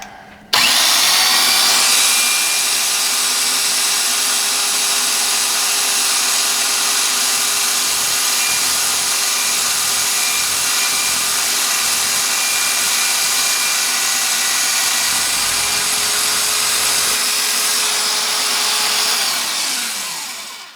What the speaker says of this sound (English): I'm going in with the centre drill to start with